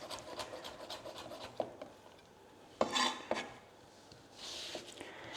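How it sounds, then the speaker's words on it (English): Meatloaf ingredients given a quick mix in a bowl: soft rubbing and scraping strokes with a few sharp knocks of utensil against the bowl, close and moderately quiet, without talking. "Give it a quick mix."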